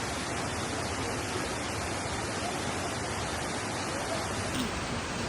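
A secret waterfall in the Morogoro hills makes a dense, unbroken roaring hiss that stays loud and steady throughout, like close rushing water.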